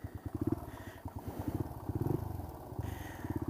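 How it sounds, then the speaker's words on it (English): A dual sport motorcycle engine running far too rich labours and sputters, its uneven chugging pulses rising and falling in close, loud bursts throughout. "Struggles of a bike that's running way too rich."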